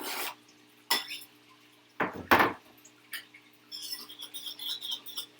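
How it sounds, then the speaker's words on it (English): A small whisk clinks and scrapes in a bowl while honey garlic sablefish is prepared, sharp metallic taps and rattly bursts separated by short pauses, close and fairly quiet. "Teeny whisk."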